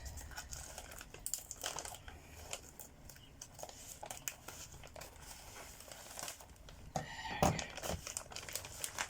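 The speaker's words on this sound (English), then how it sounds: "Just gonna cut into this carefully, because try not to cut what's inside." Crinkly plastic packaging around a colouring kit is cut open with scissors, producing close, quiet bursts of crumpling and crackling with a louder rustle toward the end.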